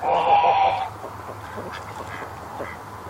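Ducks and drakes call with loud, nasal quacks for the first second, then the calling fades to quieter scattered quacks and bird sounds over a steady low background hum.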